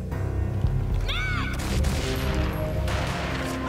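Gunfire in the Max Payne video game, several loud shots and booming blasts packed over a dense, busy game soundscape with music, continuous from start to finish.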